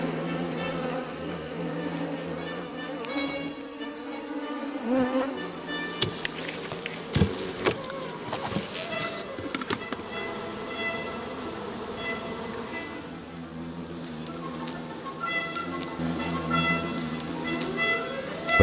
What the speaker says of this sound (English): a swarm of Asian giant hornets come to attack the honeybees.